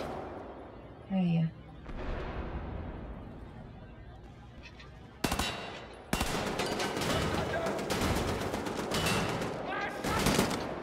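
Bursts of rapid gunfire in the PC shooter Wolfenstein: The New Order, loud dense volleys in the second half with a sharp crack midway, preceded by quieter game sounds and a brief voice.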